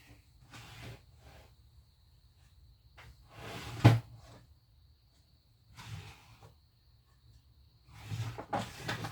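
Someone rummages through a desk drawer looking for a bone folder, making soft sliding and rattling sounds in quiet bursts, with one sharper knock partway through.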